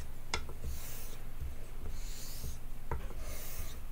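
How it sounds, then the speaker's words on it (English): A straight razor is honed on a Chosera whetstone with light pressure, giving steady close scraping strokes in an even back-and-forth rhythm, with faint clicks as the blade turns over. "I'm not counting, I'm just honing, listening to the razor,"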